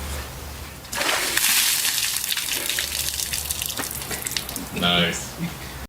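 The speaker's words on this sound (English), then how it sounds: "if I just hold the bucket upside down, water will flow out of the bucket" Water gushes out of an upside-down bucket in a loud, splashing rush that starts abruptly and pours for several seconds, and a voice speaks briefly near the end.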